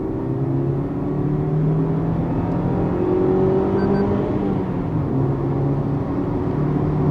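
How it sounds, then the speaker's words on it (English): A 2022 Maruti Suzuki Baleno Alpha AMT engine hums as it accelerates, a steady drone with rising and falling tonal whine, heard from inside the car without talk. "Listen to the engine."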